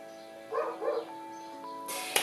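A dog named Pip gives two quick, close barks in a row, followed by a short quiet stretch and a brief sharp noise at the end.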